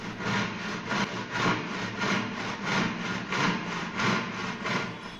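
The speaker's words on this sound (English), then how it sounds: "portable mechanical saws" A saw cuts steadily through wood in a rapid back-and-forth rhythm, continuous and fairly close, with no voices.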